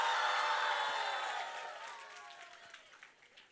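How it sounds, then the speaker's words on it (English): An audience shouts and claps at a live performance, loud at first with a broad roar of applause and cheering that steadily fades over a few seconds, leaving scattered claps. "Shout, clap, make noise."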